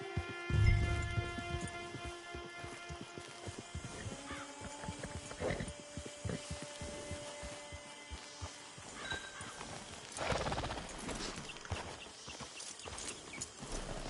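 Horse in the Red Dead Redemption 2 video game, heard as clip-clopping hooves and a neigh early on, with steady walking hoof steps over layered game ambience and tones.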